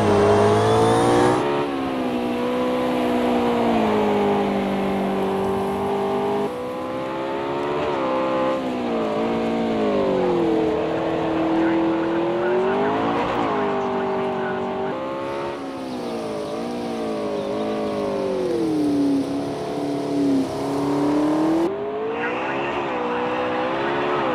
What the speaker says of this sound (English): that was the P1 in Project Cars 2